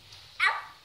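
Chihuahua puppy lets out a single short, high whimpering yelp, close and brief against a quiet background.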